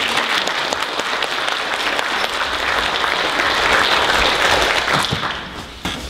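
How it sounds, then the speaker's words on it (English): An audience gives a sustained round of applause at a public flood recovery update meeting, steady dense clapping filling the room and holding throughout before tapering slightly near the end, with no talking over it. "start off with a bit of a round of applause for these people"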